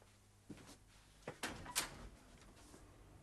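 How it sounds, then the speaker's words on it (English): A door opening or closing during a 1982 British television drama about a car factory, heard as a few quiet thuds and one sharp click-clack near the middle against a low, faint room hum. "Door."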